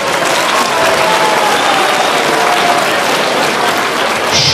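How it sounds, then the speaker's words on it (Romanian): An audience at a children's theatre and preschool awards event applauds, a dense, even wash of clapping that holds steady throughout at close range. "vă rog să-i aplaudați!"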